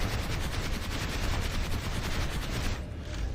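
Rapid, dense gunfire from a weapon in the game Planetside 2, fired down the sights, a continuous loud crackling burst of shots filling the whole stretch.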